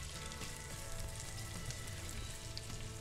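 Steady, dense sizzling of food frying in a pan, close and continuous with crackling pops throughout, no voices.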